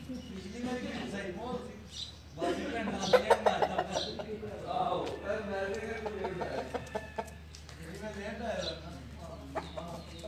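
Chickens and roosters cluck and call in a busy poultry yard at a pigeon tournament, with one louder crowing cry, mixed with people talking and a steady low hum.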